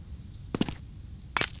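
Two sharp bursts of glass shattering in the video game Counter-Strike: Source, each loud and close with a bright crash and brief tinkling tail, separated by a short pause and set against a low game-ambience hum.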